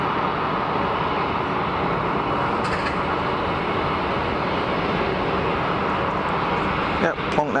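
An Airbus A220 airliner landing at Geneva Airport, a loud, steady jet roar close by that holds throughout, with someone talking over it.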